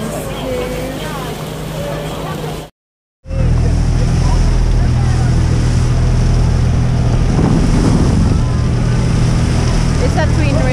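Tour boat motor running at sea off Selinog Island in the Philippines, a steady low drone with wind buffeting the microphone and water noise; it cuts out briefly then resumes, with voices faintly underneath.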